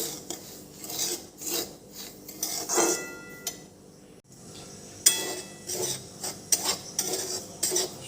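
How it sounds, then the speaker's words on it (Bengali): Dry semolina being roasted in an empty wok, stirred with a spoon that scrapes and rasps against the metal in repeated strokes, fairly close, with small clinks between passes. "এবার সুজিটাকে বেশ ভালো করে ভেজে নেব শুকনো খোলাতে প্রথমে"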